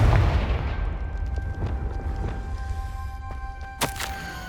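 Booming blasts from the Confringo fire spell in Hogwarts Legacy: a deep rumbling explosion opens, followed by smaller thuds and a sharp crack near the end, over sustained tonal game ambience.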